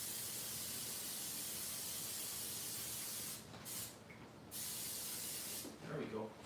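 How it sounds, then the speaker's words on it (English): Non-stick cooking spray hisses steadily onto baking pans in a kitchen, a close continuous aerosol spray with brief pauses, and a voice speaks near the end. "So let's give these a quick spray so they don't stick."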